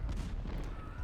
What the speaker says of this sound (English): if we do a few more volleys like this, they won't be lasting too long